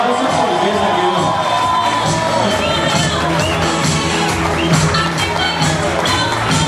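Crowd at an Italian centre dinner event cheering and clapping loudly, with whoops and shouts blending into dense continuous applause and babble throughout.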